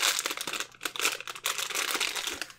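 Plastic packaging from a Loot Crate unboxing crinkles loudly and close up in continuous bursts of crackling, with brief pauses between handfuls.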